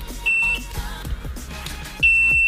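Continuity beeper on a cheap Mustool C21 smart AC/DC clamp meter, a loud high-pitched tone latching on twice in short bursts amid faint handling clicks.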